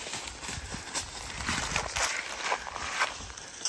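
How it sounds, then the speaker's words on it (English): A small donkey steps around a pasture, its hooves clip-clopping in a steady, fairly close rhythm over a low background rumble. "Your little donkey got out."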